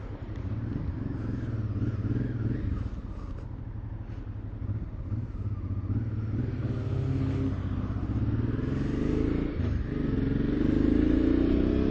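Honda XL650V Transalp motorcycle on Pirelli Scorpion MT90 tyres riding off just after setting out, with a steady engine drone and road noise throughout, loud and close without talk.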